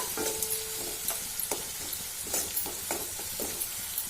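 Lentils with red chilli paste frying in oil in a pan, a soft continuous sizzle broken by scattered scraping stirs of a spoon, close and without talk.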